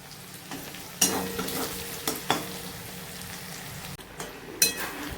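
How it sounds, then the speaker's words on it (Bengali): Onions fry in a pan for chicken curry with a steady crackling sizzle, broken by several sharp scrapes and taps of a stirring spoon against the pan. "এখন এই যে পেঁয়াজটাকে ভালো করে ভেজে নিচ্ছে"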